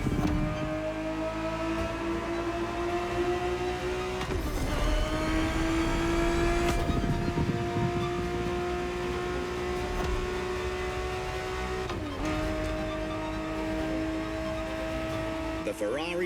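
A 1970s Ferrari 365 GTB4 engine in the racing game The Crew Motorfest, driving in Hawaii, holds steady revs in long sustained tones, shifting gears with abrupt pitch drops several times, loud and continuous.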